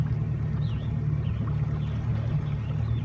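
A motorboat engine runs steadily on a lake while out bass fishing, a continuous low droning hum with water wash, close and even throughout with no talking.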